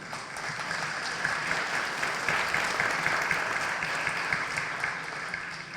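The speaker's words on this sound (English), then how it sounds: "Let's give them another round of applause." Sustained applause from a breakfast audience at an annual labor awards ceremony in New York, a steady wash of clapping hands that holds evenly throughout with no voices rising above it.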